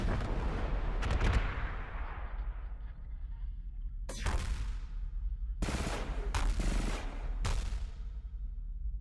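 Missiles and point-defense guns fire in the space strategy game Stars In Shadows: a series of sharp, loud broadband blasts and rattling bursts, several in quick succession, over a constant low rumbling background.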